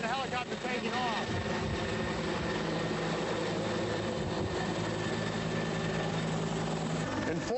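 A helicopter lifts off during a police emergency, its engine and rotor droning loudly and steadily while a voice talks over the noise.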